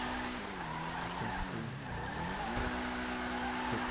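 A car engine drones with shifting pitch and sustained tire squealing and skidding in the GTA video game, continuous and fairly steady throughout.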